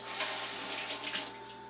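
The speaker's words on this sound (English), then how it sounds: "if you don't want your eyes to water, is to wash this with water" Cool tap water runs steadily into a kitchen sink, washing an onion before cutting, a close, continuous splashing stream with no talking.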